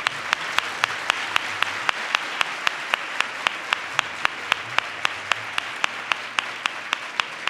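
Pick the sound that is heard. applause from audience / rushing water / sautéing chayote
applause from audience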